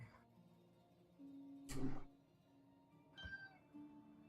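A cat lets out a loud, drawn-out meow, followed a moment later by a shorter, quieter second meow in a quiet room.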